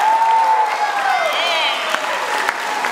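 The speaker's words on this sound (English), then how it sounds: "give her another round of applause" An audience applauds a female performer at a band show, steady dense clapping filling the room, with a sustained sung or tonal line and voices mixed in over it.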